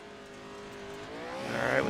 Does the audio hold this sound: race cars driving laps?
yes